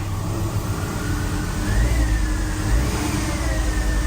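A car engine runs steadily with a low rumble and then rises in a brief rev, loud and close, with no one talking.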